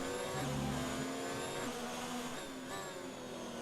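A Ferrari race car engine on track in an F2 racing game, a steady high-pitched whine that shifts pitch a few times as it revs, with no talking.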